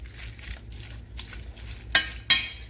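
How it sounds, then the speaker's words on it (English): Seasoned potatoes for a shepherd's pie are mixed with a little liquid, giving soft wet squishing and stirring strokes close by, ending in two sharper clicks of a utensil. "You just mix it up with a little bit of liquid like that"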